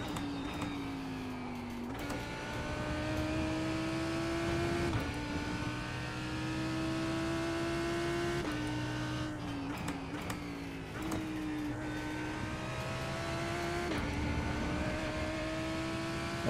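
In a sim racing game, a race car engine drones steadily and revs in repeated cycles, each rising pitch broken by a sharp drop as the driver lifts and shifts, with the throttle slammed on out of corners.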